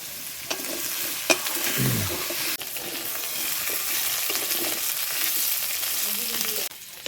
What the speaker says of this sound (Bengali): এই সবজিগুলো আমার ভাজা হয়ে গেছে